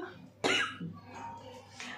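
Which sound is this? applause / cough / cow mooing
cough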